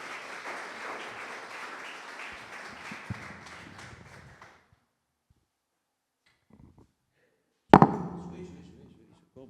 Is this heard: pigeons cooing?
no